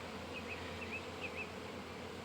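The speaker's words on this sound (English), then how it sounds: "I grabbed a bee. She didn't like it." Honey bees buzzing around a hive frame during queen grafting, a faint, steady drone with a few brief higher whines from passing bees.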